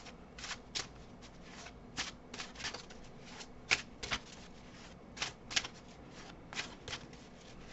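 Hessian-textured oracle cards being shuffled by hand, a run of crisp riffling flicks and slaps at an irregular rhythm, close and quiet with no talk.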